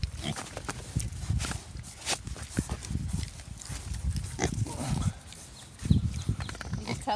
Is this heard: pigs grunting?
yes